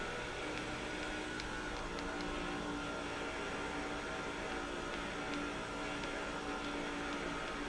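Race cars in the NASCAR 21 video game, a continuous dense engine roar at even level throughout, broad and steady with no distinct passes, moderately quiet.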